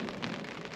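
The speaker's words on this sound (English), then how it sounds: "I hear thunder coming from all around" Rain during a big storm on a mountain top while camping beside a Jeep, a steady close hiss of drops with a low rumble underneath, no voices.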